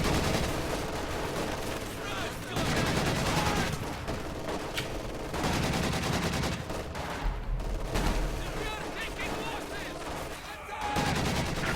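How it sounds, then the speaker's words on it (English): Bursts of MG42 and DShK machine gun fire in a video game battle, dense and continuous with overlapping shots and explosions layered under steady commentary. "Is successful in suppressing that MG42 with his Dishka quite quickly in fact."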